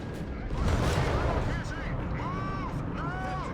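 A Vespa 105mm self-propelled howitzer on a Panzer II chassis firing in Company of Heroes 3, a heavy booming report followed by battlefield rumble, with a person talking over it.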